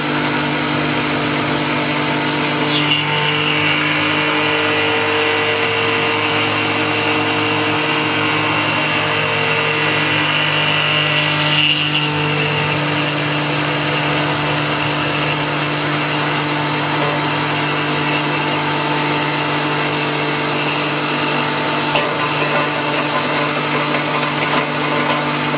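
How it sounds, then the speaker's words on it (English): A steady, loud droning hum of a shop vacuum beside a milling machine runs continuously with little change, a whining mechanical tone holding throughout. "you need to get the vacuum going here"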